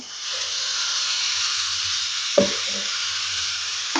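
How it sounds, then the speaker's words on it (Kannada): Paste of three tomatoes hitting hot fried masala in a pan while cooking eggs, a loud continuous sizzle and hiss with a sharp clatter midway, no talking. "ನಾನಿಲ್ಲಿ 3 ಟೊಮೆಟೊನ ಈ ಥರ ಪೇಸ್ಟ್ ಮಾಡಿ ಇಟ್ಕೊಂಡಿದ್ದೆ, ಅದನ್ನು ಕೂಡ ಸೇರಿಸ್ಕೊಳ್ತಾ ಇದ್ದೀನಿ"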